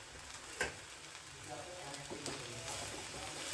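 Soaked tamarind juice is poured into a chutney frying in a pan. There is a brief splash near the start, then a soft, steady sizzle throughout.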